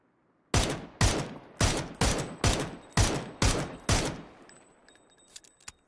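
Eight loud video game P90 gunshots fire in an evenly spaced, steady rhythm, followed by a few fainter, scattered sharp clicks and ticks.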